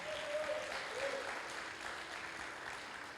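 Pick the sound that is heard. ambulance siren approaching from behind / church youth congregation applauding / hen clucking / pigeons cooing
church youth congregation applauding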